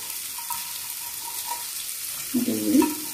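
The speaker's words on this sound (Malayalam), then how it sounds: "ഇതുകൂടി ചേർത്ത് നന്നായിട്ട് വഴറ്റി കൊടുക്കുക" Red onions sauté in a pan for a clam roast, a soft sizzle that swells briefly near the end over faint background noise.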